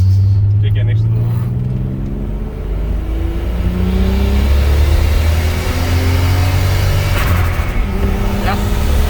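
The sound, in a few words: VW VR6 turbo car engine revving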